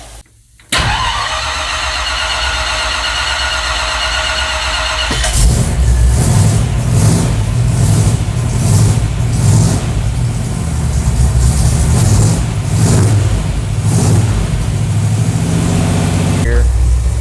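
A car engine cranks and catches, idles steadily for a few seconds, then rises into a series of rhythmic revs. The car is running for the first time in a while during an electric fan install, and voices talk over it.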